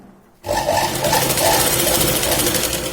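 A sewing machine starts abruptly and runs steadily close by, stitching blouse fabric for a katori blouse with a rapid, even mechanical chatter that holds without pause.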